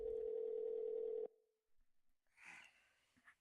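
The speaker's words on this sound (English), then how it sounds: "A phone call?" A steady telephone ring tone from The Walking Dead: A New Frontier video game drones loudly for about a second and a quarter, then cuts off and leaves quiet shuffling noises behind it.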